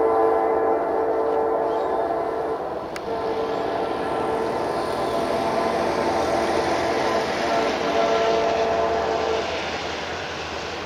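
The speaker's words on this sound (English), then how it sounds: "When it's done, it goes back to Erie, Pennsylvania, which is what it's doing right now with the empties." A BNSF freight train with three engines hauls empty cars past steadily, a loud continuous rolling rumble of wheels and cars that stays close throughout, with a brief sharper squeal near the start.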